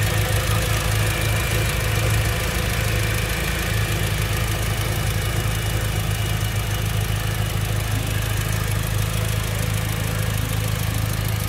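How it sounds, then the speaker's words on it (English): A 2006 Mitsubishi Lancer Evolution IX MR engine idles steadily and loudly up close, a deep even rumble with a slight mechanical ticking throughout, no voices. "Hear that engine? Turn up your volume. Very healthy sounding engine."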